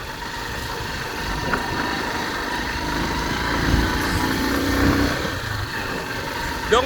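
A motorcycle taxi engine putters along slowly on a Kinshasa road, a moderate, steady hum mixed with broad road and street noise, swelling slightly midway.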